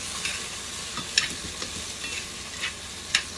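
Spoon stirring hamburger meat in a pan over very low heat, a faint continuous sizzle broken by a handful of crisp scraping taps at irregular intervals, close and fairly quiet.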